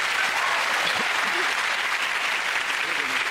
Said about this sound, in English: Give them all a round of applause, ladies and gentlemen